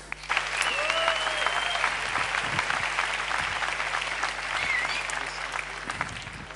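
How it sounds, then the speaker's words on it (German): A large conference audience applauds steadily, dense clapping filling the room with a few faint voices and whistles mixed in. "Also dann gebt ihm mal einen Applaus."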